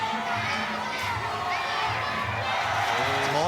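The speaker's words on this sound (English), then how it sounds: "Crowd going crazy, calling them on." A packed crowd at a Muay Thai fight roars and shouts continuously, with a dense, loud wall of cheering and calls that never lets up.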